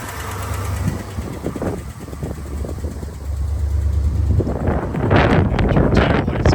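1988 Jeep Grand Wagoneer with a 360 V8, automatic and a new carburetor, idling outdoors with a steady low engine rumble partly masked by gusting wind noise on the microphone.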